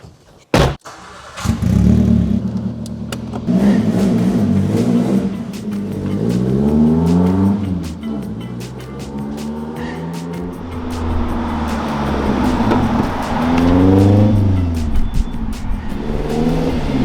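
A turbocharged Nissan Micra on the road: a sharp start-up burst, then the engine revs up and down in repeated accelerating sweeps through the gears, loud and close for most of the stretch.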